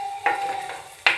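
Food frying in ghee for a pudding, with two short bursts of stirring or sizzling over a steady tone, fairly close and with no talk.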